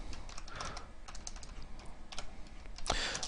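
Fast, uneven typing on a computer keyboard, a steady patter of close key clicks with a heavier clatter near the end, with no voices.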